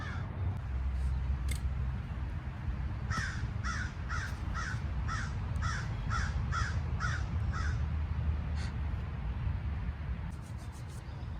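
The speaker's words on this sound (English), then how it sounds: "We got crows hanging out." Crows caw from out in the woods, about ten harsh calls in a quick, even series with a few more scattered before and after. The calls sit over a steady low outdoor rumble.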